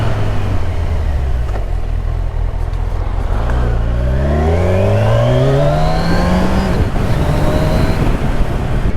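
A 2020 Kawasaki Ninja 1000SX engine drones loudly while being ridden, its pitch climbing smoothly through the gears as the bike accelerates, with wind rush underneath throughout and no speech.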